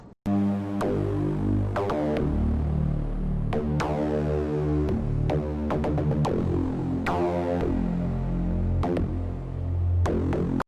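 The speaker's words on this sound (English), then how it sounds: "The bass part also goes through this main reverb." Deep synthesized bass notes from a Pure Data patch pulse steadily, washed in a long reverb tail, with sharp transient hits throughout and a full, humming low end.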